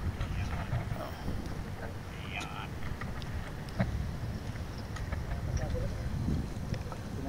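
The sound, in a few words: strong wind at sea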